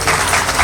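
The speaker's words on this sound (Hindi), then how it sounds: "तालियों के साथ इनका स्वागत करेंगे।" A crowd gathered for a Bhagavata katha religious discourse applauds to welcome a devotee, loud dense clapping in a brief continuous burst.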